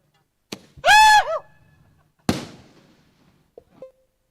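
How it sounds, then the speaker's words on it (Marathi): Fireworks go off at a local cricket tournament match: a rising whistle and a few sharp, spaced-out bangs and crackles against an otherwise quiet background. "फटाक्यांची आतषबाजी."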